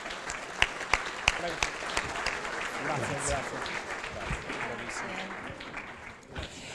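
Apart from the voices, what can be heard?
audience applause at gala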